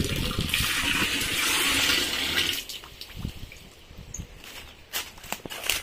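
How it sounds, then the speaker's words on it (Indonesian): Water gushes into a fermentation container fitted with a tap, a loud rushing fill for about two and a half seconds, then it stops, followed by quieter drips and handling knocks. "Kita isi dulu dengan air."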